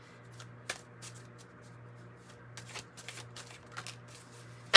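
Tarot cards being shuffled during a reading, a series of quick, light riffling and flicking bursts spread across the clip, close and fairly soft over a steady low hum, with no talking.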